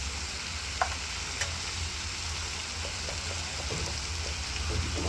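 Olives cooking in a pan with salt for pickle give a steady, even sizzle with faint stirring scrapes and a couple of brief clicks, close and continuous, with no voices.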